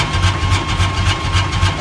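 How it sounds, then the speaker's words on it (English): Car engine idling after a slow start, a steady low rumble with a pulsing rhythm, loud and close, with no voices over it. "it always takes much longer to start the car"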